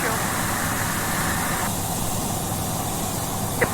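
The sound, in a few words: aircraft engine noise through headset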